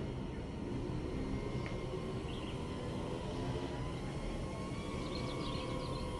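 A Flytalk Pavo20 FPV drone flying, a thin steady whine from its motors heard at a distance over constant outdoor background noise, with a few faint rising chirps and no speech.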